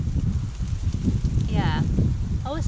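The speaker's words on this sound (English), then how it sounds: "it is windy" Gusty wind buffets across an open allotment plot, a steady low rumble of microphone-battering wind throughout, with birdsong chirps breaking through near the middle and end.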